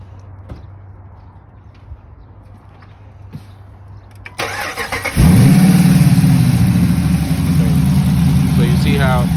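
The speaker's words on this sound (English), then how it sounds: "Bro, you'll go turn the car on real quick." A 5.7 V8 car engine with an MSD ignition cranks over and catches about halfway through, then settles into a loud, steady idle with a rough low rumble. Quiet background comes before it.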